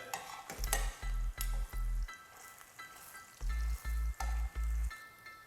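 Shallots frying in oil in a pan give a steady crackling sizzle, joined by rhythmic low scraping thumps of stirring in two clusters, close and fairly quiet.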